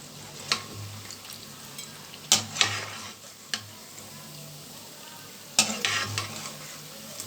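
Khajur sweets frying in oil over medium heat give a soft, continuous sizzle, broken now and then by sharp clinks and stirring scrapes of a utensil against the pan.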